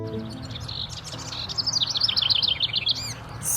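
Spring birdsong at a grassland campground on the Colorado plains, with a run of bright chirping phrases repeating over a low, steady background rumble and rising in intensity midway.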